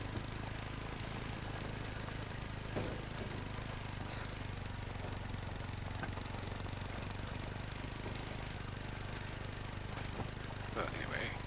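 ATV engine in The Hunter: Call of the Wild, a steady low droning hum running throughout at moderate level, with faint intermittent clatter over it.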